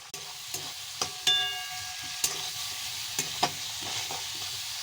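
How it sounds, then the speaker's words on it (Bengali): Onion frying in hot oil in a home kitchen pan gives a steady, close sizzle, broken by occasional sharp clicks of a utensil stirring against the pan, with no talking. "এখন আমি পেঁয়াজটা তেলে দিয়ে দেবো। দেখো তেলটা হয়ে গেছে, দেখছো।"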